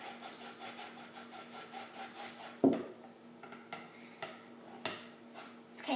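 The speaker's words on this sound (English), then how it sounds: "Now I'm going to get the zest out of the lemon." A lemon rubbed against a metal grater for zest, heard as a run of close, rhythmic scraping strokes in the first half, then a few sharper knocks and scrapes of the grater and bowl with no talking.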